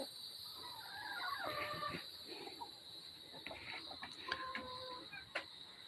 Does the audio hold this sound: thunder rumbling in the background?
no